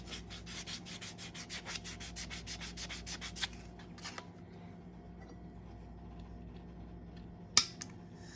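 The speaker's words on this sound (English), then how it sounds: "So we come around, sand the edge down," The edge of a 1959 Franklin silver half dollar, 90% silver, is sanded into a coin ring: quick rhythmic rasping strokes for about four seconds, then near quiet, broken by a single sharp click.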